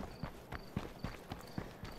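Donkey hooves walking in the video game State of Decay 2, a steady clip-clop of about eight evenly spaced hoof falls, close and fairly soft with no talking over them.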